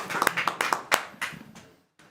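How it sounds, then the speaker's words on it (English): A handful of audience members at a personalised nutrition public health event clap in a short scattered burst, sharp individual claps that quickly fade to silence. "Yes, you are allowed to clap for that."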